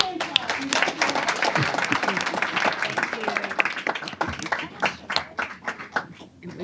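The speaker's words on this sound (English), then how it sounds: "She gets another big hand clap." An audience at a Belton ISD school board meeting claps for an honored student, a dense burst of applause that thins into scattered individual claps toward the end.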